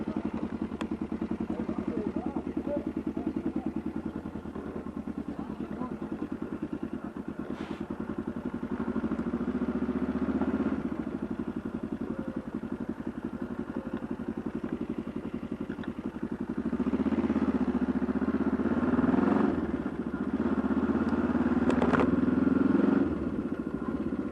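A motorcycle engine runs steadily throughout, a continuous mid-pitched drone with slight rises and occasional clatter, close and fairly loud, no speech over it.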